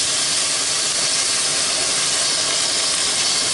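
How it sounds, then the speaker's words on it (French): Smoked pork belly searing in a hot pan, a loud, steady, close sizzle with a broad hiss that holds unbroken throughout. "Alors d'abord, je vais mettre ma poitrine pour la saisir"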